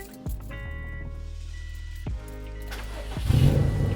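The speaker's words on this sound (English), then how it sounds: "But you guys are going to hear here on startup." A Subaru STI fitted with Perrin engine mounts cranks and catches, settles into a rumbling idle, cranks again and then blips the throttle into a louder rev, all recorded close up.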